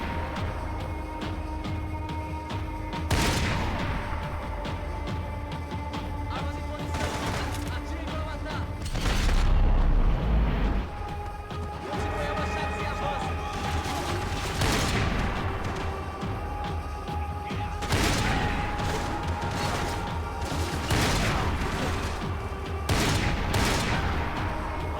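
Heavy M82 rifle shots boom at irregular intervals in a Max Payne 3 gunfight, each loud crack standing out against a steady background of game sound.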